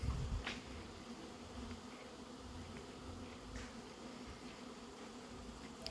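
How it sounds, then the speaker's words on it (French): Hornets buzz in front of a beehive in a steady, faint drone outdoors, with soft hum and hiss around them and no voices. "Des frelons qui dansent devant la ruche."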